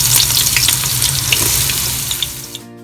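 Onion and carrot frying in coconut oil and ghee for a Malabar chicken dum biryani: a steady, dense sizzle with faint stirring scrapes that runs continuously, then cuts off abruptly near the end.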